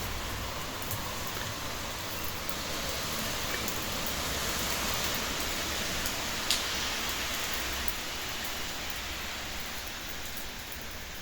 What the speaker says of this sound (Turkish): Şöyle yağmurlu da göstereyim sizlere yağmur yağarken.